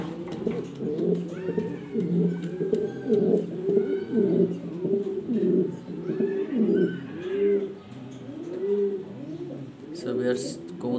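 Black exhibition pigeons coo continuously in a loft, with overlapping rolling calls from several birds close by and a steady level throughout.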